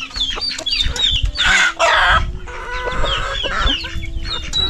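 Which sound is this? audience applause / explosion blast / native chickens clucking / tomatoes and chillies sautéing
native chickens clucking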